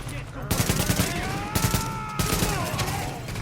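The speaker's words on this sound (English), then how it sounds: "The escort party's taking heavy fire from the roof." Gunfire in The Division video game, loud bursts of automatic fire in several clusters over a steady battle din, with a faint voice underneath.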